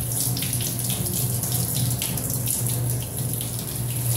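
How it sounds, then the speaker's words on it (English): Tap water runs steadily into a sink as hands and arms are rinsed during a surgical scrub with betadine, a continuous close splashing flow with no speech. "rinse hand, always making sure that the water runs down your arm"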